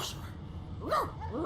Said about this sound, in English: The dog whines and continues pawing it.